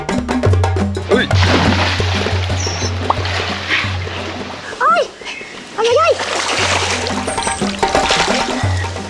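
Splashes sound as people jump into water at an eco resort swimming spot, with bursts of churning water amid loud excited voices and shouting nearby.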